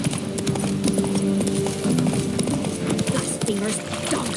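Horse hooves clip-clop steadily in The Witcher 3 video game, a close, rhythmic run of hoofbeats with a brief whinny, heard beneath loud ongoing speech throughout.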